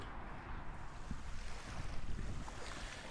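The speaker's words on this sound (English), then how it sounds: "So I have made my way to a giant body of water, which I am given to assume is Lake Michigan" Waves wash against the Lake Michigan shore at Indiana Dunes, a continuous broad surf rush mixed with wind buffeting the microphone, with no voices.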